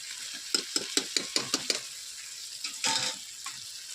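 Homemade paneer goes into a frying onion masala for matar paneer: a quick run of spoon clinks against the pan, then a short burst of sizzling, followed by faint frying.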